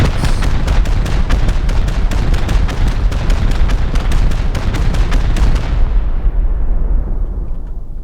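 Rocket explosions from a base raid in the video game Rust, a rapid barrage of loud, dense booms in quick succession that abruptly stops and fades into a decaying rumble.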